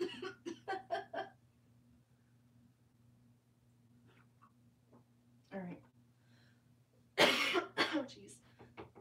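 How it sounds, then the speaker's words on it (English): A coughing fit: a quick burst of several harsh coughs opens, then quiet with scattered throat noises, a short cough, and a loud final cluster of coughs near the end, all close to the mic in a quiet room. "I'm gonna have a coughing attack right here at the end."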